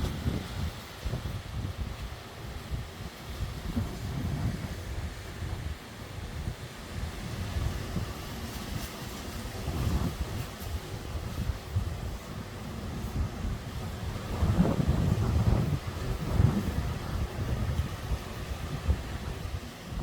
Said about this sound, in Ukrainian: Але вітер не вщухає.